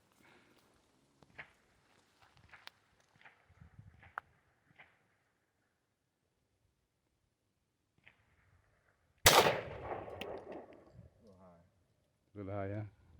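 A single .40 caliber gunshot cracks out loud and sharp after a stretch of near quiet with faint movement, its blast trailing off into noise, while people talk around it.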